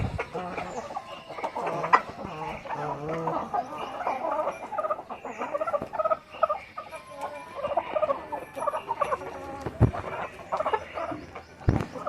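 Native breed chickens at a breeding farm cluck and call continuously at close range, several birds overlapping, with a few sharp knocks in between.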